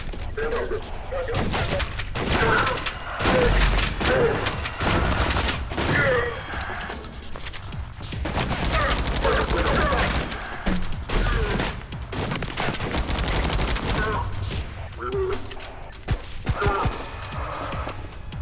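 Shotgun blasts in the first-person shooter ADACA: a rapid series of loud, close booming shots with mechanical clanks between them, firing repeatedly through the whole stretch under bursts of combat noise.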